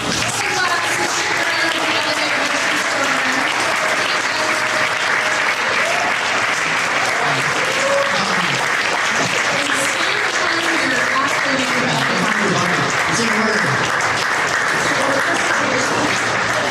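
Sustained applause from an event audience as participants walk onto a stage at a pitch night, steady and dense throughout with some cheering and voices mixed in.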